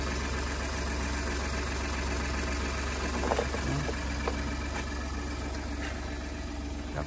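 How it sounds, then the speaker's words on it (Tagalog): Ford F150 Lariat engine idling after a jump start, a steady low rumble held at close range with a few faint clicks and knocks over it. "paandarin natin ng matagal yung F150"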